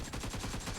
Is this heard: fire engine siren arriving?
no